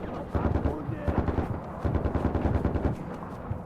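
Rapid bursts of automatic gunfire from the video game Far Cry 4, loud and dense with repeated shots through most of the stretch, voices faintly mixed in.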